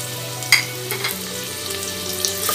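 Pointed gourd (parwal) pieces frying in hot mustard oil in a pan, a steady close sizzle with a couple of brief stirring clinks, with no talk.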